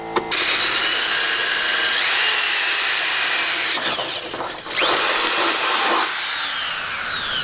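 An impact wrench fitted with chrome extensions rattles off bumper bolts on a Jeep XJ during an off-road bumper install, loud and sustained whirring hammering with brief pauses near four and six seconds, close by with no talk.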